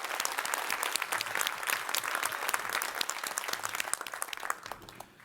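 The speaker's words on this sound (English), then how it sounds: "And Larry, I want to take this time now for all of us to give you a round of applause for your visionary leadership in making all this happen." An audience at a Stanford Medicine conference gives a round of applause, a loud, dense and continuous clapping that carries on for several seconds before starting to thin out at the end.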